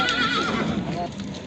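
Big black mare at a livestock market, a horse whinnying near the start with clip-clop and market bustle around it, voices talking in the background.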